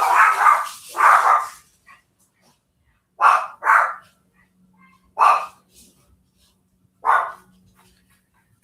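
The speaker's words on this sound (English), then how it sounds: "they're really good like guard dogs. Like they are, but they just bark at everything" Small guard dogs bark in short paired and single yaps, loud and close, separated by pauses of quiet room tone across roughly eight seconds.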